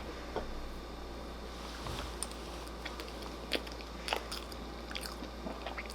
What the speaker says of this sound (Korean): 오늘 선물 받은 롤케이크를 먹을 겁니다